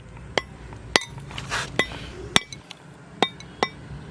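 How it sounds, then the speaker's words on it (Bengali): A coconut is cracked open in a village kitchen: several sharp, separate knocks land about once a second, each a crisp clinking strike, close by, with quiet gaps and a short rustle between them. "আগে আমি নারকেলটাকে ফাটিয়ে নিই"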